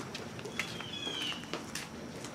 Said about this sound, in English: you can hear some birds